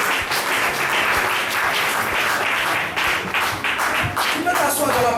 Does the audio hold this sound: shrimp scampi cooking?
no